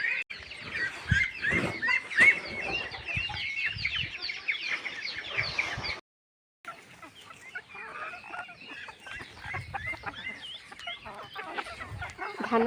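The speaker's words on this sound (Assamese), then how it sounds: "সেইবোৰ সিহঁতে ডাঙৰ মুৰ্গীকেইটাই পাই বহুত ভাল পাইছে" Chickens, including large hens, cluck steadily while pecking and foraging for rice grains scattered in paddy husk dust during a coop cleaning, with a brief pause midway and a soft crow-like call heard once.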